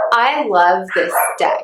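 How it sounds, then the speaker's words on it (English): Dogs barking at home, mixed in under a person's steady talking throughout, with the barks blending into the voice rather than standing out clearly. "I apologize if you hear my dogs barking."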